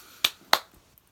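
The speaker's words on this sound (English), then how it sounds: "snaps, claps for you" Two crisp finger snaps, sharp and close, about a third of a second apart, with no talking around them.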